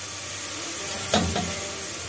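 Rice frying in a pan until golden, a steady close sizzle and hiss with a brief scraping stir of the spoon partway through.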